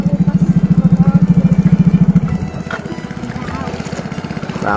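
Motor boat engine chugging loudly up close with a steady rapid pulse on a flooded marsh lake at Rawa Indah, Pasuruan, then easing to a lower throb as people talk nearby.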